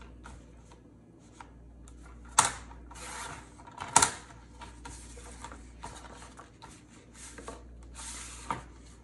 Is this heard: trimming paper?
yes